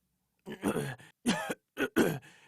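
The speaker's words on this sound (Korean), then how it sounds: "치타가 헛기침을 하면서 말했습니다" A person clears their throat in several short, gruff bursts with brief pauses between, close and fairly loud.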